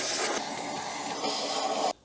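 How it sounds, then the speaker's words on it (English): A vacuum cleaner runs steadily around the cabin air filter area of a 20-year-old Porsche 911, a close, continuous whooshing hiss that cuts off abruptly near the end. "we're first going to give this a quick vacuum"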